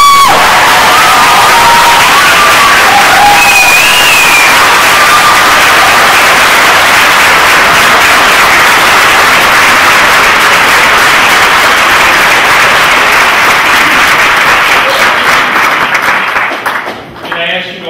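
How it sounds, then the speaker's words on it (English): Large audience at a Navy medical laboratory technician graduation ceremony breaking into sustained loud applause with cheers and whoops, a dense, continuous wash of clapping that fades near the end. "please give a round of applause to the graduates here today"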